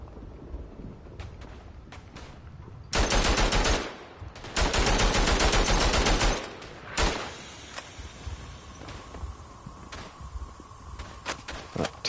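A Lewis machine gun fires two sustained, loud automatic bursts in the WWI shooter Verdun, each lasting over a second. Scattered distant shots and clatter fill the gaps.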